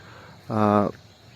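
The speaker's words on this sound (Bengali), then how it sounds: "মোরগের শব্দ শুনে সকালবেলায় ঘুম ভেঙে গেছে।" A single rooster crow at dawn in a rural Jhargram village, loud and close, lasting under half a second against a quiet background.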